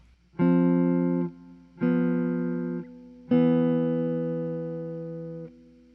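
A jazz ii-V-I progression: three sustained piano-like chords played one after another, each ringing and slowly fading, the last held longest, with no low bass notes.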